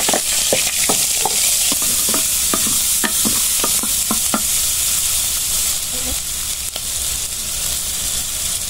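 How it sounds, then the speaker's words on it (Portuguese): Onion goes into a hot frying pan of beans and calabresa sausage, setting off a loud, steady sizzle with a run of sharp utensil clicks and scrapes from stirring, which fade out partway through. "Agora eu vou colocar a cebola."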